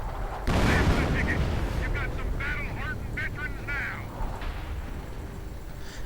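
Artillery fire in a real-time strategy game, a deep booming blast near the start followed by crackling impacts and bursts of distant gunfire, with a commentator speaking over the battle.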